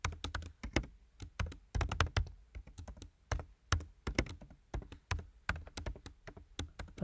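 Fingers type on a computer keyboard in quick, irregular bursts of sharp key clicks and thunks, close by, with no talking.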